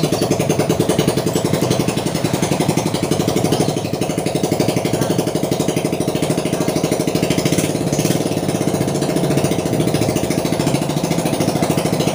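A Yamaha Mio motorcycle runs after a piston replacement, its single-cylinder engine idling in a rapid, even pulsing beat, loud and steady for the whole stretch with no talking.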